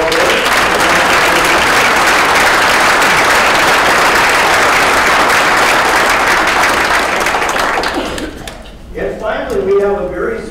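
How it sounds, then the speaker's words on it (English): Sustained audience applause at a 2017 Minnesota GOP governor candidate forum, loud and dense for about eight seconds before thinning out, with a voice beginning to speak at the end. "maybe accept a round of applause for their service as well."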